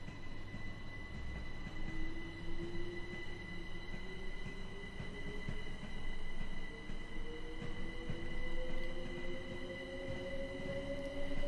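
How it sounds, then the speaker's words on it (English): A 12-car Class 387 electric train pulls out of London Victoria station, its traction motors whining and rising steadily in pitch over a constant rumble of wheels and station hum, loud and close with no talk. "I'm going to watch this 12-car 387 leave Victoria Station."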